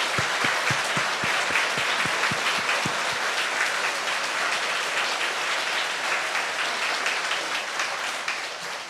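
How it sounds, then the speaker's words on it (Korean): An audience at a church Sunday service applauds the children, with sustained, loud, even clapping from many hands; a few distinct claps stand out at the start before it settles into a dense wash that fades slightly. "Let's give it a big round of applause for our children."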